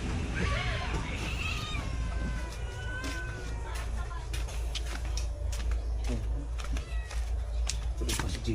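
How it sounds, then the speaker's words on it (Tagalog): Many cats meow and wail together at close range, their overlapping cries rising and falling continuously. People talk and there are scattered clicks over a constant low background rumble. "Ang daming pusa."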